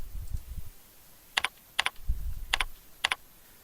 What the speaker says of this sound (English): Type in my username and my password,